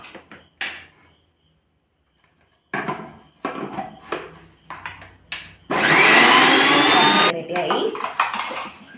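A mixer grinder grinding spice paste roars loudly for about a second and a half, with clattering and knocking of the jar and lid around it and a voice speaking briefly.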